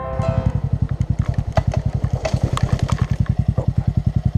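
A 2022 Bajaj Boxer motorcycle rides off-road, its single-cylinder engine thumping in a fast, steady rhythm, loud and close, with slight rises in revs and no talk.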